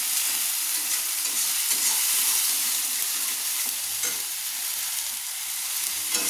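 Spice paste with turmeric and chilli powder fries in oil in a pan, a dense, steady, close sizzle with faint stirring scrapes underneath.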